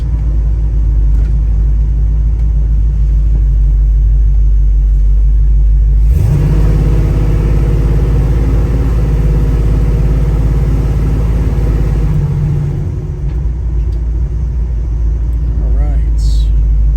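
A 1972 Chevrolet Nova with a 427 engine rumbles loudly and close while driving, surging into a heavier revving growl partway through before settling back, with someone speaking briefly over it.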